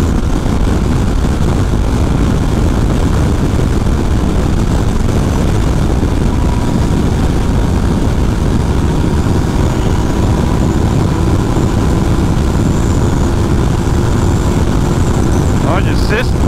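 Yamaha Tracer 900 GT motorcycle engine droning steadily while riding, with broadband wind rush and road noise throughout, loud and continuous, and a rider talking over it.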